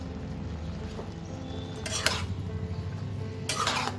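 Bottle gourd being stirred in a pan after a pinch of turmeric and cumin powder goes in, with a steady low kitchen hum and two brief bursts of spoon scraping against the metal pan near the end.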